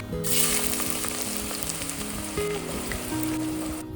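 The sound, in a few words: onions with cinnamon, cloves and cardamom frying in oil and ghee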